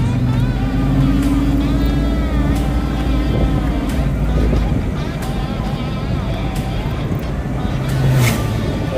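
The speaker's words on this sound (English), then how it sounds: "Another little Porsche." A Porsche sports car drives on the winding, hairpin-filled Tail of the Dragon road, heard as loud, continuous engine and road roar close by, with people talking over it.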